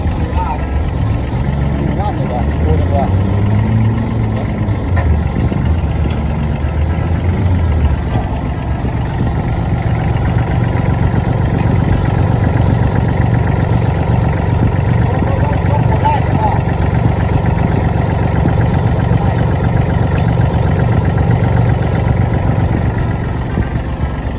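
A Kubota L3408DT tractor diesel engine idles steadily up close, a loud, even low-pitched rumble throughout, with someone talking over it early on.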